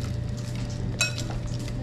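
Boiled potatoes being mixed into beaten egg in a bowl for a Spanish tortilla, with light clinks and scrapes of a utensil against the bowl over a steady low kitchen hum.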